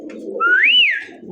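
A single pigeon's coo from a Bombay or racer-type market bird swells and falls over about a second, close and clear above low background murmur.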